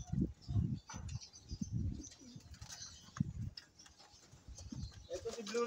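Homing pigeons, racing flyers kept by a fancier in the Philippines, coo in low repeated bursts up close, with occasional chirps and people talking in Tagalog in the background.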